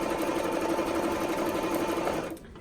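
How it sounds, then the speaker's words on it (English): Domestic sewing machine running a steady zigzag stitch along the raw edge of a dress seam allowance, a loud continuous whirring hum that cuts off near the end with no talking. "go ahead and zigzag down the raw edge of each side of the seam"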